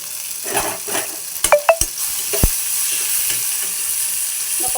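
Chopped guava and tomato sizzle steadily in a hot pan for a chutney, with a spatula scraping and clinking against the metal a few times over the constant frying hiss.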